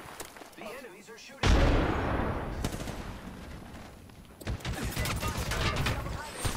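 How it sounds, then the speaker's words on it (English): Rapid bursts of automatic gunfire from enemies in a shooter video game, loud and sustained with overlapping shots, heard alongside in-game effects and voices. "The enemies are shooting."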